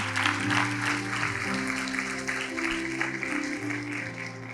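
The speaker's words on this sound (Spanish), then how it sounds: "¿Cuántos le pueden dar un aplauso al Señor por su misericordia?" A church congregation applauds during a Bible study on Ephesians, moderate clapping over a sustained low musical drone or keyboard chords that continue beneath it.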